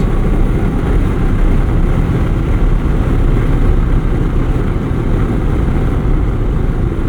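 A 2024 Mazda MX-5 Miata RF (ND3) accelerating out of a corner on a backroad, its engine a loud, steady droning roar heard from inside the car with heavy road and wind rumble.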